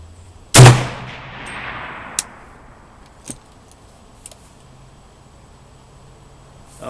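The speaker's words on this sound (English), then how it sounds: "I'm gonna shoot this last few rounds." A BM 59 rifle fires one loud, sharp shot outdoors that rings out and decays, followed by a couple of small clicks and distant faint reports.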